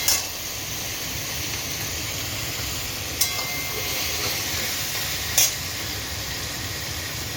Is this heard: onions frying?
yes